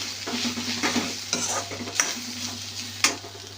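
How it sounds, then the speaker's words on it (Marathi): Spring onion greens with turmeric being stir-fried in a pan, a steady close sizzle broken by scraping strokes of the spatula and a few sharp clinks against the metal. "आणि आता आपण परत एकदा परतवून घेऊया."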